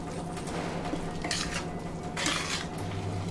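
Peas being stirred into a batani chaat mixture in a metal pan, with steady scraping and clinking of a spoon against the pan, two louder scrapes standing out over a faint sizzle, no talk.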